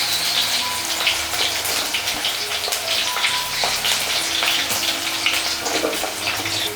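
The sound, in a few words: chopped onion sautéing in oil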